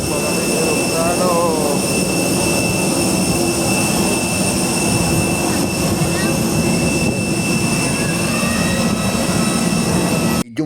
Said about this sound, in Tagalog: Maraming eroplano.